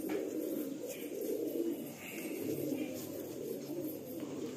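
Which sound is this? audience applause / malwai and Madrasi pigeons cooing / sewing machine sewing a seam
malwai and Madrasi pigeons cooing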